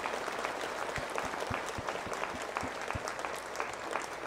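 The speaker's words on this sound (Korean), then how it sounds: "우리 하나님께 감사와 영광의 박수 돌립시다" A church congregation claps together at a Sunday worship service, dense steady applause with sharp individual claps audible throughout, loud and sustained with no talking.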